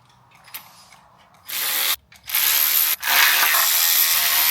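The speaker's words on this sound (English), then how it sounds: "Alright, we're going to pop out these pan bolts." Engine oil pan bolts come off during a camshaft swap teardown, with a tool whirring and buzzing in a few loud, close bursts separated by brief stops.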